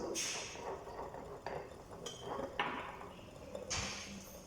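A mixture stirred in a porcelain vessel, giving a quiet series of scattered clinks and taps as the utensil strikes the sides, faint and close with gaps between strokes.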